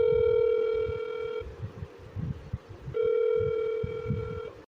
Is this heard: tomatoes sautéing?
no